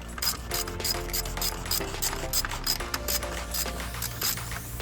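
Hand ratchet tightening a bolt during a stereo install on a Ferrari 360, a steady run of close, loud clicking pawl strokes with rhythmic pauses between swings and no talk.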